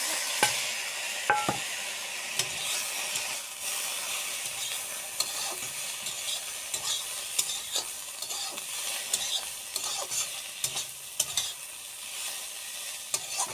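Continuous close sizzling of tomato, cumin and coriander powder frying in a pan, with occasional stirring scrapes and soft clicks; no talking.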